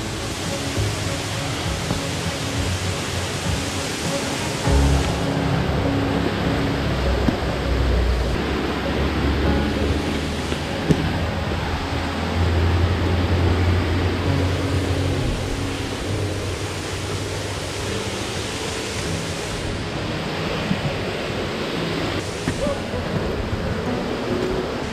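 A waterfall and creek rush steadily in a broad, dense roar, close and loud, for the whole stretch, with faint scattered bumps and rustles over the constant water.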